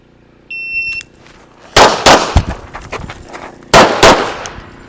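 A shot timer's sharp electronic beep opens a practical shooting drill done on the move, followed by two quick pairs of loud, close pistol shots, each crack ringing out briefly in an outdoor range setting.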